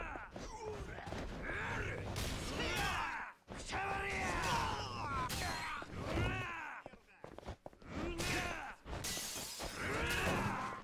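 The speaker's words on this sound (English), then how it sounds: "Sorry for breaking the glass." Glass shatters repeatedly during a brawl in Like a Dragon Gaiden, crashes mixed with grunts, groans and shouts from fighters, loud and busy throughout with brief pauses.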